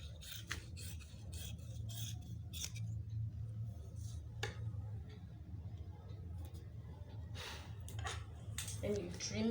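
Scissors trim fabric for a butterfly off-shoulder triangular gown, a run of scattered rasping snips and slides spread across the stretch, fairly quiet against a low steady hum of the room.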